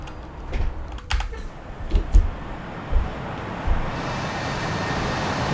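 Computer keyboard keys pressed in a few separate taps during an F-4E Phantom flight simulator cold start, each click distinct over a steady low cockpit hum.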